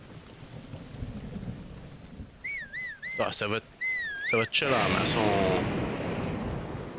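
Steady rain and storm rumble in a Zelda: Breath of the Wild thunderstorm, a broad wash that swells louder in the second half, with game chimes and someone talking over it.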